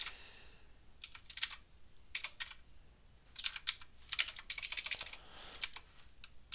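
Computer keyboard typing while entering a name in an ASP.NET MVC project, crisp clattering bursts of keystrokes in uneven runs with short pauses, close and alone without speech.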